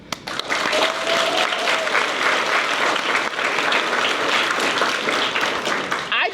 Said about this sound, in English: And I need one more round of applause, but this one is for our teachers, our counselors, our coaches, and our staff